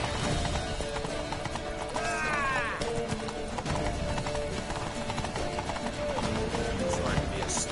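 Horse hooves clip-clopping and galloping in The Witcher 3 on PS4, steady and close throughout, with a horse whinnying briefly, over game music and speech.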